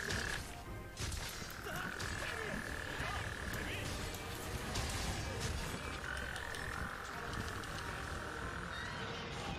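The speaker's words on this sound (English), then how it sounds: "Sonora, thank you for the toad sounds." Toad croaks presented as sound effects, a run of rough, rasping calls that carry on steadily over a busy background.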